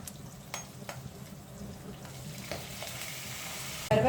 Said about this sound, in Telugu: ఇప్పుడు మనం ఎండుమిరపకాయలు కూడా వేసుకుందామండి కొంచెం వేగిన తర్వాత.